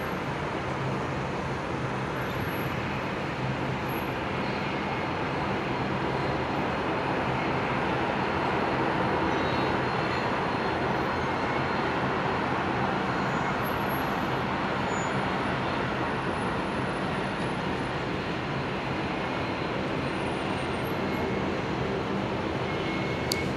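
A Delta jet takes off from runway 01 left at Brisbane Airport, a steady loud roar of engine noise that holds throughout, broad and continuous with no talk over it.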